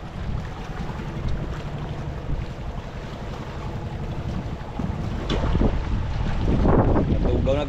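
Strong wind buffets the microphone by the sea, with boats moving on the water and waves washing in, growing louder and rougher toward the end.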